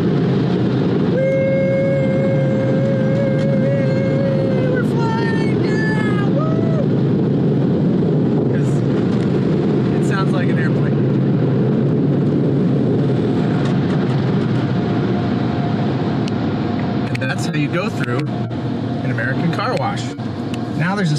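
A powerful car wash air dryer blowing hot air roars continuously at close range, a loud steady rushing drone with a whine, while someone speaks over it.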